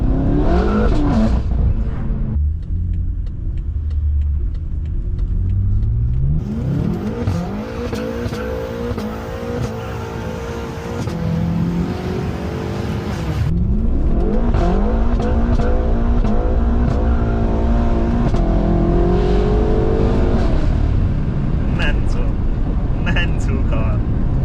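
A BMW G80 M3 tuned to 820 bhp accelerates hard on a public street, its engine note climbing in loud rising sweeps through several gear changes, with someone talking over the roar.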